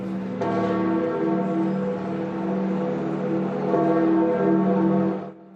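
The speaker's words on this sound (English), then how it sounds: "The bells tolling at St." Church bells toll at St. Peter's Basilica at the Vatican during the funeral of Pope Francis, a rich ringing, overlapping peal sustained for several seconds before fading, with no talking.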